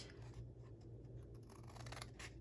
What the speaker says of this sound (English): So I'm going to cut up to the score line